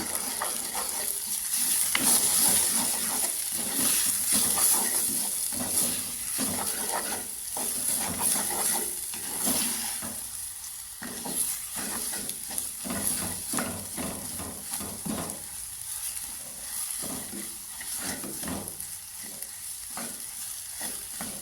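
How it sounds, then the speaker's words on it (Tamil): Eggs with a little salt are stirred in a pan, a continuous soft sizzle under repeated scraping strokes in an uneven rhythm, close and low in level with no speech. "கொஞ்சமாக உப்பு முட்டைக்கு போட்டுட்டு நல்லாவே இதை கிண்டி விட்டுருங்க"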